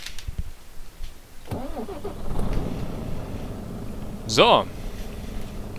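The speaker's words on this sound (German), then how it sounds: "dann schmeißen wir die Karre mal an" A truck engine cranks and catches in Euro Truck Simulator 2, then settles into a low idle rumble. Someone talks over it and a short chime sounds near the end.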